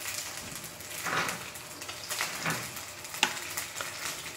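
Cubed potatoes tipped into hot olive oil in a Cookeo multicooker hiss and sizzle steadily, with soft stirring clatter and a couple of sharper scrapes or pops close by.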